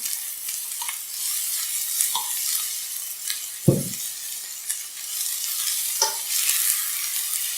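Bacon lardons and thinly sliced onions sizzle steadily in a hot pan, a bright continuous frying hiss broken by occasional stirring scrapes and one low thud, with no talking.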